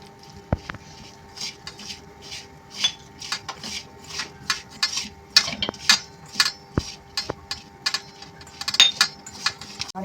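A hand-mixing sabudana pakoda batter in a bowl with lemon juice gives a series of soft rhythmic squelches and rubs, dotted with occasional clinks against the bowl, close and fairly quiet.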